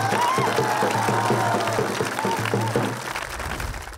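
Audience at a college canteen entertainment show at Dr. C.V. Raman University, Vaishali, claps for Rahul over pulsing music, loud at first and then thinning out near the end.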